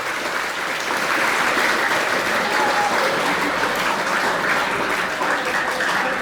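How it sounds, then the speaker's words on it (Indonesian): An audience at a Ramadan school event claps continuously, a steady dense applause that stays loud and even from start to finish. "Boleh tepuk tangan."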